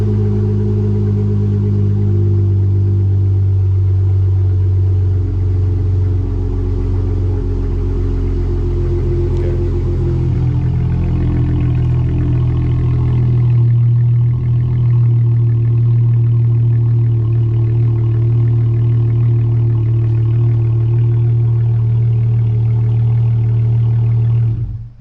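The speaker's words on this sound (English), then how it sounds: "Let it idle down a little bit." Chrysler 300 engine idling, a loud, steady low rumble close to the microphone that settles lower partway through and then cuts off abruptly at the end.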